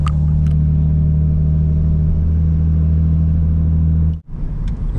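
Lexus IS300 engine with a cracked Y-pipe exhaust leak, a loud, steady low rumble held close by, dropping out sharply near the end before resuming, with no voices.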